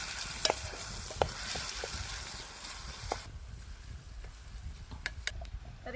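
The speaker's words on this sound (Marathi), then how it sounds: "तर टोमॅटो आपल्याला चांगला मऊ होईपर्यंत परतून घ्यायचा आहे।" Finely chopped garlic and tomato sauté in a pan in an outdoor kitchen for mutton keema, giving a soft, steady sizzle with occasional stirring clicks.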